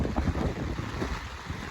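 Strong wind from Typhoon Kristine in Quezon Province roars steadily and loudly across the microphone, a dense continuous rush with no speech.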